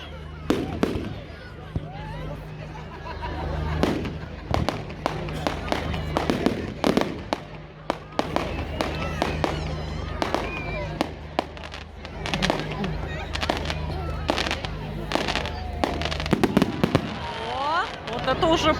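Fireworks launched at a Bonfire Night fair in England, a dense run of sharp pops and crackling bursts spread across the scene, moderately distant, with crowd chatter and nearby voices talking throughout.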